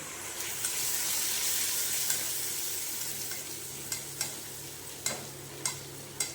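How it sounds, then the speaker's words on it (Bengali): Spice paste for a doi katla (yogurt rohu fish curry) sautéing in a pan, a steady soft sizzle with several sharp scrapes of a spatula stirring toward the end, close and clear with no talking. "এবার এটা দিয়ে ভালো করে কষে নেব"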